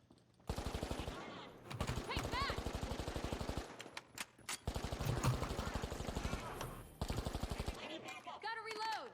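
Automatic gunfire in the shooter game The Finals, long rapid bursts of shots in quick succession with brief pauses between strings, loud and close, with a voice talking at times.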